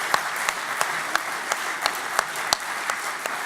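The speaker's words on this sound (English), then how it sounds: "a round of applause and a few cheers for Kirsten" Audience applause for Kirsten at a UKIP conference, a steady, fairly loud wash of clapping with sharp claps standing out roughly every third of a second, with no talk over it.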